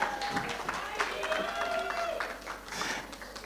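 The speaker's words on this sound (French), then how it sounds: "On applaudit bien fort." Audience applause at an award ceremony honouring a trophy winner, a dense steady patter of clapping throughout with a voice talking over it.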